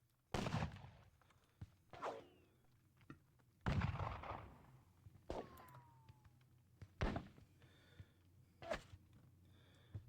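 Troops of the Naples Elite Regiment trade musket volleys in a Napoleonic wargame, heard as about eight separate sharp cracks spaced a second or two apart, faint and distant against a quiet background.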